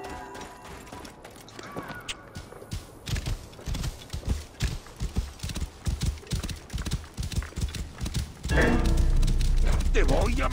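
Horse hooves clip-clop in a steady rhythm in Assassin's Creed Origins, fairly close and prominent, followed by a sudden loud burst of noise near the end.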